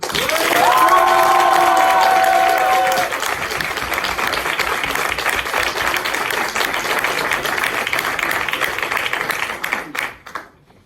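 Audience at a speech competition final applauding and cheering, with loud clapping and shouts that open with a brief musical tone, then keep up a dense roar before fading out near the end.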